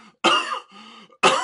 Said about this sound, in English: Shit, I'm gonna start coughing again.